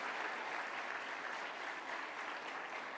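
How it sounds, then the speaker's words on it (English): Warm applause from an audience in a hall at a National Science Day celebration as a minister walks to the dais; steady, dense clapping, fairly soft and even throughout, with no voices. "A warm round of applause as he makes his way into the hall on the dais."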